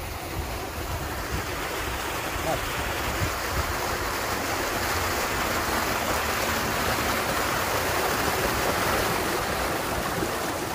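A waterfall feeding a stream at Hatta in Dubai roars with a dense, unbroken rush of falling and flowing water, loud and steady throughout with no voices.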